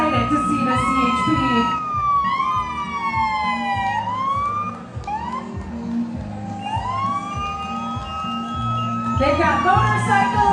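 A California Highway Patrol police siren leads a Fourth of July parade in Truckee, wailing loudly in long rising and falling sweeps over crowd noise and engine rumble, with a second siren overlapping near the end.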